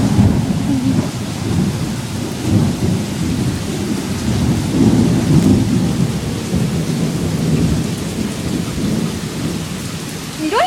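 A severe thunderstorm in Newport News, Virginia: steady heavy rain pours down with deep rolling thunder rumbling through, loud and continuous with no voices.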